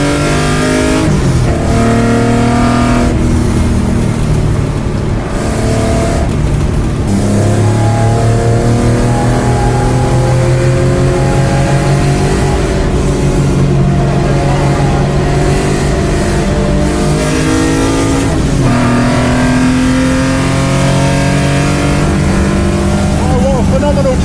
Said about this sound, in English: just listen to the sound of this XJS going around Castle Combe. 6 cylinders, 4 litres of greatness.